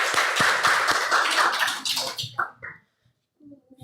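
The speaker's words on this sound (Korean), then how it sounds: "우리 환영의 박수를 좀." A church congregation claps in welcome during a Korean worship service, a brief burst of many hands that thins out and stops after about two seconds, followed by quiet and a faint voice.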